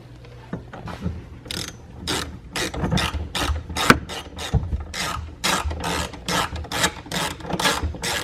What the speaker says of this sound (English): In this case, we've got a 5mm Allen socket on a ratchet.